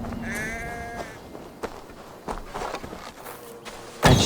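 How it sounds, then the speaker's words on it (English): A sheep bleats in the video game Assassin's Creed Valhalla, one wavering cry up front, followed by soft footsteps and scattered thuds. "It sounds like a sheep, not a happy one."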